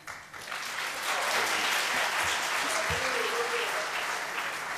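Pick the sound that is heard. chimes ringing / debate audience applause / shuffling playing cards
debate audience applause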